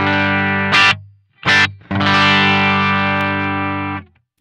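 Two short distorted electric guitar stabs through a Quilter amp with reverb off, then a sustained chord that rings loudly and stops abruptly with no lingering tail.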